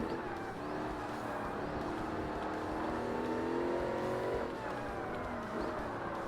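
A Corvette C5 race car engine in the Forza Motorsport racing game drones steadily at light throttle, its tone rising and falling smoothly and continuously throughout, with no talking.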